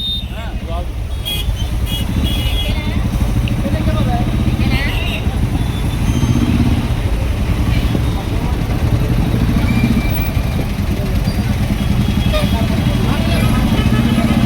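Motorcycle engines rumble and idle steadily throughout, with people talking over the continuous mechanical drone.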